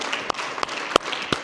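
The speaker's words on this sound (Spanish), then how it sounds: "Vamos a un aplauso al Señor." A handful of sharp, evenly spaced claps ring out during a Spanish-language prayer gathering, four distinct hand claps over a quiet room background.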